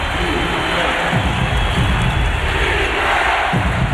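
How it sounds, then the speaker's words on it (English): Loud, steady roar of a basketball arena crowd during a Mavericks vs Hornets 2008 playoff game, a dense continuous wash of cheering and shouting with no break across the clip. "Terry can't silence the crowd"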